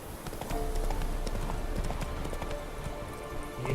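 Roach the horse trotting in The Witcher 3, a steady clip-clop of hooves close by and fairly loud throughout, with faint game ambience underneath.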